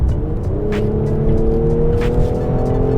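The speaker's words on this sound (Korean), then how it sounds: "엄청 빠르게 변속이 되는 건 아닌데, 그래도 이제 자기가 원하는 대로 변속을 바로바로 해주고 있습니다" A 2018 Mercedes-AMG GLC 43 engine pulls under acceleration, its steady drone rising in pitch as the transmission shifts, heard loudly from inside the car without speech.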